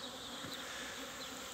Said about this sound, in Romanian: Prima dată când ies albinele pe în acest an.